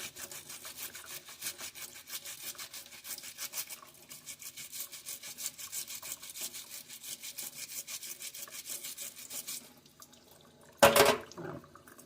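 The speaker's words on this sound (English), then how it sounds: "after scrubbing in the sink, this is what I've got" A brush scrubs a model in a sink in rapid, close rasping strokes with running water underneath, ending with a louder brief splash.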